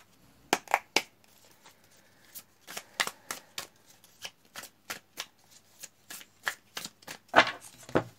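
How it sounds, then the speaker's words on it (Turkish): Tarot cards being shuffled at close range, a long run of crisp riffling snaps and flutters in irregular bursts with short pauses, with no voices. "Hemen Rumi'den de tek bir kart çekelim."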